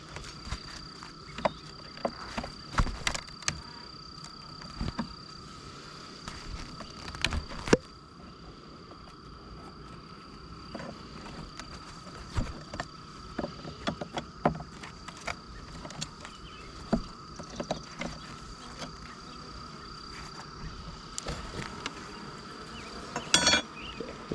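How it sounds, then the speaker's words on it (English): Honeybees buzz around an opened backyard hive during a spring inspection, a faint steady hum broken by scattered clicks and knocks of frames and tools. "So what we'll do is brush off the bees."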